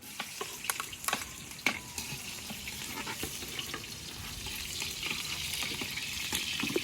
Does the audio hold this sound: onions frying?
yes